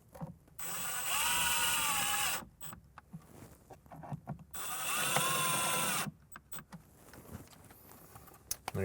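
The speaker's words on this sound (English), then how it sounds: "We're just going to screw that back in right into the factory spots." A power screwdriver drives screws holding a 5 1/4 inch coax speaker into the factory mounting spots of a 1997–2006 Jeep Wrangler TJ soundbar, two sustained whirring bursts separated by clicks and handling taps.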